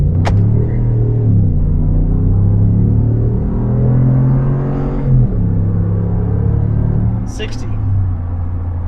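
A Ram 1500 truck with a 5.7L HEMI V8 rumbles deep and close as it accelerates, its pitch climbing through gear changes with a brief chirp of spinning tires near the end, while someone talks over it.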